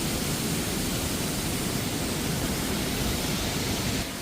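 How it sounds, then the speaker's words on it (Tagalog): Water flows beneath a hydroelectric structure on the Rhine, a continuous soft rushing hiss, even and unbroken, heard alone without voices until it fades near the end. "Sa baba nito, ayan, umaagos pag marinig nyo. Umaagos ang tubig."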